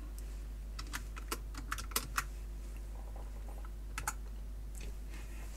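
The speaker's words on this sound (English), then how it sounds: "This is the problem of shifting to an APL keyboard." Typing on an APL computer keyboard, a sparse run of individual key clicks and taps, fairly close but quiet against a steady low hum, with a short pause before a few more keystrokes.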